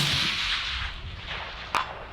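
A single rifle shot from a Sig Cross rang out at long range, a sharp crack standing out briefly over steady wind noise outdoors.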